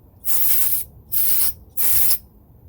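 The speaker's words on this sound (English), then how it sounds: "just going to spray this out" Three sharp bursts of aerosol brake cleaner hiss out in quick succession during a disc brake job, each lasting about half a second, close and loud.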